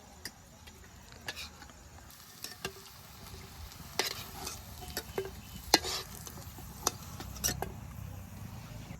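Mustard flower fritters (bora) frying in oil on a village stove turned up a bit high, a steady close sizzle with scattered sharp pops and crackles, no talking.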